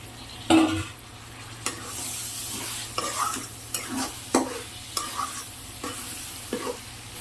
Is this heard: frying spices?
yes